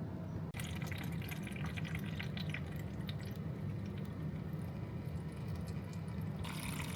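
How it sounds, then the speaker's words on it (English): Water runs steadily and softly into a bottle being refilled, a constant low trickle with a single click near the start. "it's also time for some more water, so let's refill that"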